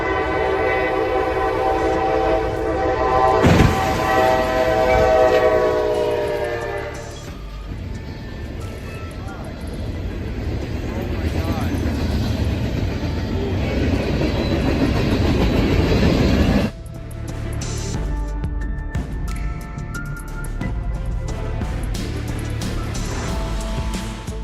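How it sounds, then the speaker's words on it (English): A train rumbles past with a loud, sustained horn blast early on, wheels clattering steadily underneath as it goes by. "There is no winning against a moving train."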